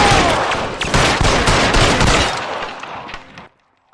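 Rapid, loud gunfire from an L.A. Noire shootout, a fast string of close shots over about three seconds before cutting to near silence.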